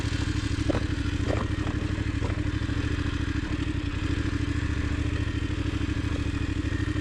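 A Voge 900 DSX motorcycle ridden gently on unsuitable tyres, its steady mid-pitched engine drone continuous throughout with wind and light mechanical clatter, no speech.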